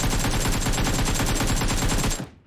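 AKM rifle fired in PUBG Mobile, a loud rapid automatic burst of evenly spaced shots lasting about two seconds before cutting off with a short decay.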